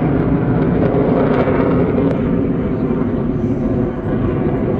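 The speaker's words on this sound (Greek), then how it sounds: "Τώρα το αεροσκάφος επανατοποθετείται και θα εκτελέσει μπροστά σας 2 στροφές αλλαγής πορείας." A Hellenic Air Force F-16 jet roars loudly and steadily during an air show display over the old harbour of Chania, a broad continuous rumble with no break.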